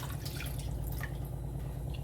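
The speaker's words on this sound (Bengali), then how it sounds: "এবার এখানে আমি দিয়ে দিচ্ছি, জল অ্যাড করে নিচ্ছি।" Water is poured into a pan of curry masala for a mung dal bora curry, a faint, steady trickling and dripping of liquid with soft kitchen background noise.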